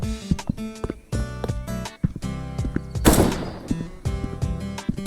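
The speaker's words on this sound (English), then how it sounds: "I think I got 3 shots from the AK" An AK rifle fires in the video game A Long Road, with one loud, sharp crack standing out partway through over a busy, rhythmic game soundtrack of thumps and tones.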